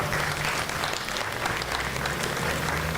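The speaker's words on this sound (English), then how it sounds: "Can we also ask you to join in a round of applause for our elected officials who are here today?" An audience at a Constitution Day and Kids Voting kickoff event applauds elected officials, with steady, full clapping from a sizable crowd that continues evenly throughout.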